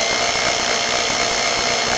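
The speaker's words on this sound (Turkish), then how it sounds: "Tırtırtırtı bir ses yapıyor. Bu darbe özelliği." A Stilmax STL5800F 58V 8Ah dual-battery cordless impact drill runs in hammer mode, pressed against a cloth, giving a loud, continuous rattling whir with a steady buzzing texture and no talk.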